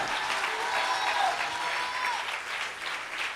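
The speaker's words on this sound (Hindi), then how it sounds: "हाथ उठाकर ताली बजाओ" Congregation clapping during a Hindi-language church sermon, with hands raised in praise: a continuous, moderately loud crowd applause that rolls on evenly for a few seconds, with faint voices mixed in.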